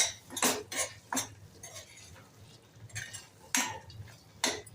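A spoon stirs and scrapes potato curry with fresh coriander in a metal pan, giving several distinct clinks and scrapes in an irregular rhythm, close and moderately loud, with no talking.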